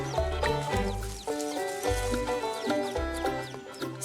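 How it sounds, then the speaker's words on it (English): Mother hen with her chicks foraging on a farm, her low rhythmic clucks repeating in short bursts close by, mixed with higher chick peeps, and no voices. "a mother hen is taking her brood for a foodies tour."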